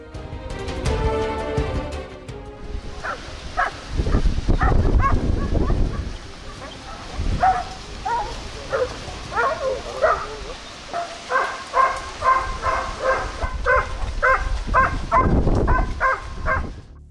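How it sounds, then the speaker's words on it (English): Hunting dogs barking during a wild boar hunt, a pack giving repeated loud barks and yelps in irregular bursts, some close, others overlapping in a noisy chorus outdoors. "training hunting dogs plays an important role to ensure effectiveness and safety of the hunt"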